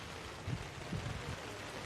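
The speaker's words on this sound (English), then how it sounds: "And the rain absolutely starting to bucket down." Heavy rain pouring down over an outdoor Australian rules football ground during a division 7 A grade match, a steady broadband wash with a few faint low thumps underneath.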